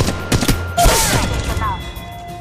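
Gunfire bursts from a weapon in the Apex Legends Mobile shooter game, a few sharp shots and a louder blast mid-clip, with mechanical clatter and an in-game voice calling out over the action.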